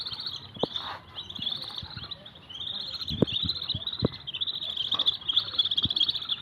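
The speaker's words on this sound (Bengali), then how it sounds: "ওরা আমাকে দেখাই চিল্লাচিল্লি ডাকাডাকি শুরু করে দিছে।" Lesser whistling ducks give repeated high, thin whistling calls in an excited chorus, fairly steady and close, with a few soft knocks and thumps nearby.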